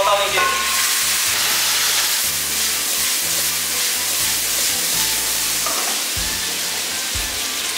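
Pumpkin stir-fried in a wok with scallion, oyster sauce, chicken stock and a splash of water: loud, steady sizzling and hissing fill the clip, with repeated low scraping and tossing strokes of the spatula.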